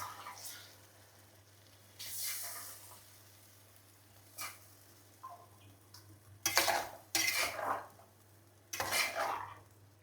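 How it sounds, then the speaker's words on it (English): Chicken cooks with onion in a pan over medium flame, heard as quiet sizzling broken by several bursts of utensil clatter and stirring scrapes against the pan, growing busier toward the end. "add your chicken. Now cook this on medium flame for about 5 minutes."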